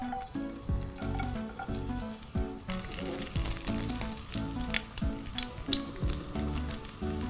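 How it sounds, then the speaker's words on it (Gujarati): Garlic tempered in hot oil for a rice casserole crackles and sizzles loudly up close, with pulsing bursts of spatter and light clatter and no talking. "હવે પહેલા લસણ વઘારશું."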